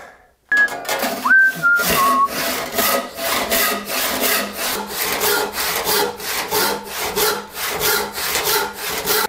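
Hand saw cutting through a clamped wooden workpiece during hand tool woodworking, a steady back-and-forth rasp of regular strokes, loud and close, with a few brief whistle-like tones at the start.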